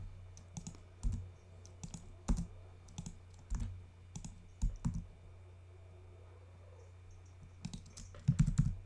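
Computer keyboard key presses and mouse clicks during 3D dinosaur modeling, a series of sharp, close clicks in irregular bursts spaced across the span, with a quick cluster at the end over a low steady hum.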